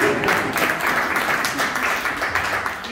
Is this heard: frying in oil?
no